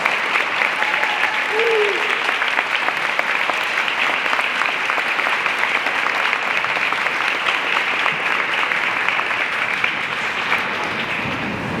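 A school assembly audience gives a long, steady round of applause for third-grade honor roll recipients, dense clapping from a crowd filling the room for about twelve seconds.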